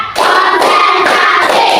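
A group claps hands together in a steady counted rhythm, several firm, close claps spaced evenly while voices chant along.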